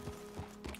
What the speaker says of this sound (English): Is that the Arabian horse?